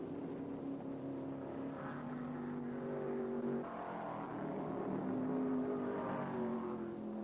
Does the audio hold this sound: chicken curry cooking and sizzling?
no